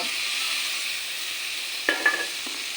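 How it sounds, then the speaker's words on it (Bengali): Koi fish and ripe tomato stirred together in a pan of hot oil: a steady low sizzle, then two or three brief scraping clatters of the spoon near the end. "মাছ আর টমেটোটা পুরোনো সঙ্গে মিশে নিই"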